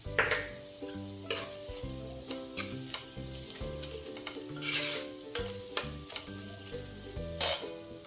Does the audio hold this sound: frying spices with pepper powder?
yes